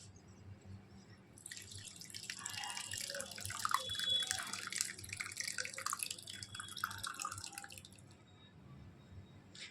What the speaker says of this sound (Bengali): এবার আমি ছানাটা ছেঁকে নিচ্ছি